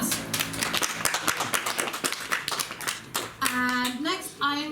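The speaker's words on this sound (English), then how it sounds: "Big claps." An audience claps at a poetry reading, a burst of many hands applauding together, lively and near, fading out as a voice starts speaking at the end.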